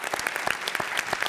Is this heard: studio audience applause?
yes